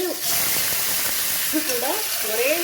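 Steady oily sizzling of small onions and curry leaves frying in oil with mustard seeds, broadband and continuous, with a voice speaking over it in the latter half.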